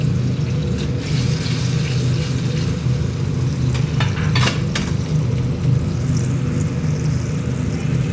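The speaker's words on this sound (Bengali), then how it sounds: "মশলাটা একটু ভাজা ভাজা করবে।" Whole spices and a bay leaf fry in hot oil in a pan for a paneer malai kofta gravy, giving a steady, loud, continuous sizzle with occasional brief clatters, no voices over it.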